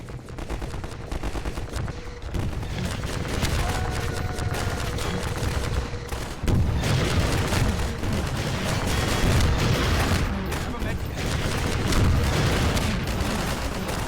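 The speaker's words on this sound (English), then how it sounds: "It is blowing up with rockets" Rocket explosions and rapid gunfire in the video game Half-Life 2, a dense, loud barrage of crackling shots and booming blasts running continuously, with no talking.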